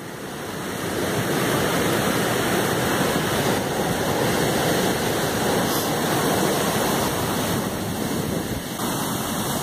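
Floodwater rushing at a bridge, a loud, continuous roar of churning water that fills the scene up close, with no voices over it.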